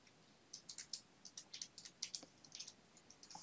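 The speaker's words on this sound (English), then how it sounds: "And enter and type a password." A password typed on a computer keyboard: quiet, quick key clicks in an uneven run of about two dozen taps, close and faint, with no voices.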